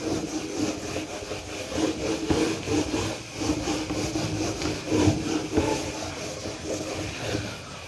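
A teacher rubs a classroom board clean, giving a steady, close scrubbing and swishing in repeated back-and-forth strokes that run continuously at moderate volume with no talking.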